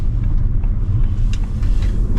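A 2025 Audi S5 with quattro all-wheel drive and a 7-speed S tronic gearbox pulls away hard from a standstill, giving a steady, loud low engine rumble throughout with no voices.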